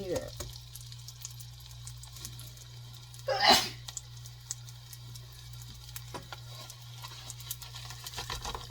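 A single sharp sneeze bursts out midway in a kitchen where a stuffed flatbread is frying in hot oil, standing out briefly over a steady low hum and faint sizzling.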